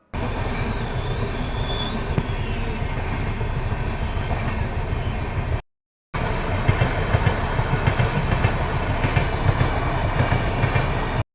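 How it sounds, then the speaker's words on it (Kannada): Two trains pass at a railway crossing near Tumkur at night, a loud continuous rumble of wheels clattering over the tracks with a brief gap between the passings, close and dominating, with no talking. "ಈ ಕಡೆ ಒಂದು, ಆ ಕಡೆ ಒಂದು 2 ಟ್ರೈನ್ ಬಂದು"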